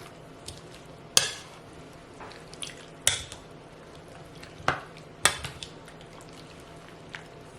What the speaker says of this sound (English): We will add these and we will stir everything around